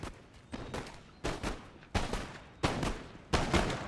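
Musket volleys in Empire: Total War, a series of about six loud, evenly spaced crackling rounds of massed gunfire, each decaying into a rumbling tail, with no voices.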